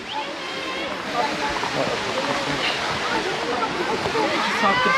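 A waterfall in Tatlıca canyon near Erfelek, Sinop, gives a steady broadband rush of falling water, close and continuous, with no clear pauses.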